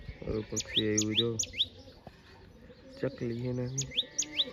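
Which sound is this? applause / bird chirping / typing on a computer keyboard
bird chirping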